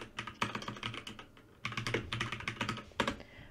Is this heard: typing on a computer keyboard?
yes